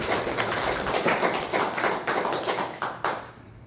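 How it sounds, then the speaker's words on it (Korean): A church congregation claps together during Sunday worship: dense, steady applause that carries on for about three seconds, then fades out. "우리 하나님께 영광의 박수, 하나님 성례의 박수"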